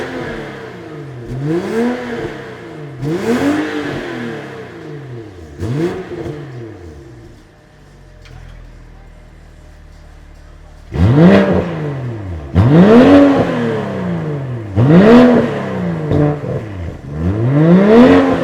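A BMW M340i with a 300-cell DCE downpipe and resonated OPF delete revs repeatedly from outside the car, loud rising and falling bursts in a steady rhythm, a quieter idle pause midway, then more throttle blips.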